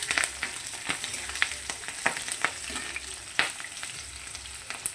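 Garlic and green chilies fry in hot oil for kachur lati, a steady close sizzle broken by sharp scraping clicks of stirring, with no voices.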